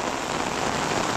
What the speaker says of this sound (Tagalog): Ang ulan, walang hiwat.